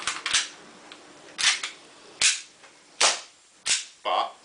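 An ASG Dan Wesson Valor 1911 airsoft pistol fires on a green gas magazine: five sharp, loud reports with uneven gaps between them, close by, with no talk.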